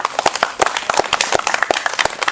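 A small audience claps steadily for a sponsor at an outdoor community medical event, the uneven claps close and distinct with no voices over them.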